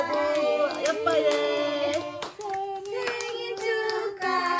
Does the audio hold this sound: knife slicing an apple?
no